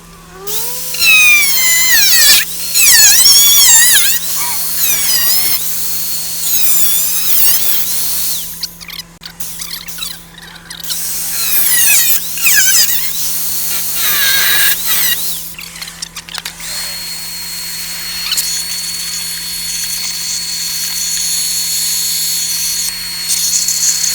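A power tool grinds and cuts rusty metal on a Jeep Comanche with loud, screeching bursts that rise and fall in pitch, pausing briefly before resuming, with a steady hum underneath.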